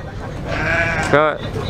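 A large billy goat bleats at a sheep and pig market in Capoeiras, Pernambuco, one loud wavering near call over a busy outdoor crowd murmur.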